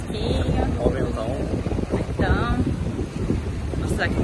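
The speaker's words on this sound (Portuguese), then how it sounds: "Tá ventando, tá fresquinho. Ó o ventão." Strong wind gusting on the beach at Praia dos Carneiros makes a rough, buffeting rush across the microphone, while a person talks over it.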